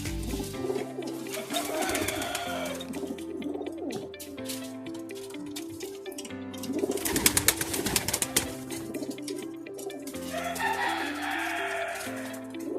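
Domestic breeder pigeons coo repeatedly in a loft, giving soft, layered calls with a steady rhythm that rises in places and stays fairly close and clear throughout.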